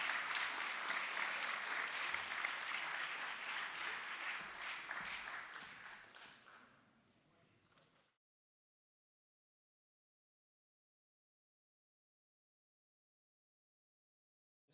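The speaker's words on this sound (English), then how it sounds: "One more round of applause, please." An audience at an evening talk claps warmly, with the applause fading gradually over about seven seconds into complete silence.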